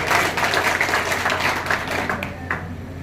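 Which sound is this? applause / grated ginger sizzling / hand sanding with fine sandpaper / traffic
applause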